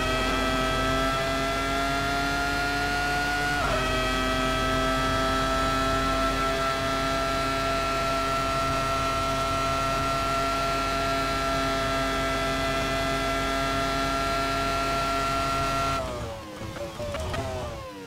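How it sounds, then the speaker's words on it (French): Ferrari F2002 V10 engine in Assetto Corsa screams at sustained high revs in a near, loud steady drone, with a brief dip and re-climb around four seconds and a sudden rev drop near the end, no talk. "vous laisser entendre ce beau bruit V10 qui est vraiment mais ultra bien fait"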